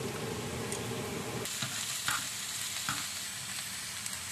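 Carrots, mushrooms and onions fry in a pan with a steady close sizzle, with a denser crackle that eases after a moment and a few soft stirring clicks and scrapes. No one speaks.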